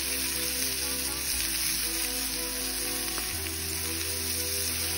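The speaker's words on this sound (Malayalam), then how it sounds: "വെളിച്ചെണ്ണ ചൂടായി വന്നു കഴിഞ്ഞാൽ നമുക്ക് ഇതിലേക്ക് രണ്ട് മീഡിയം സൈസ് ഉള്ളി അരിഞ്ഞത് ഇട്ട് കൊടുക്കാം" Chopped onions, two medium ones, sauté in hot coconut oil for a chicken roll filling, giving a steady, close frying hiss with a faint low hum beneath and no talking.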